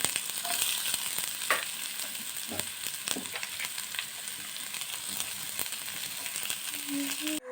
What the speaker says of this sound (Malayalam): അങ്ങനെ സവാള ഇട്ടെടുത്ത് നല്ല രീതിക്കൊന്ന് വഴറ്റിയെടുക്കുന്നുണ്ട്